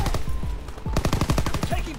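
Rapid automatic gunfire from World War II era weapons in the video game Call of Duty: WWII, a dense string of sharp punchy shots firing in bursts with a brief gap, loud and close throughout.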